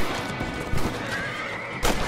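A horse in the video game Red Dead Redemption lets out a loud, close whinny, with hoof clip-clops and game background noise around it.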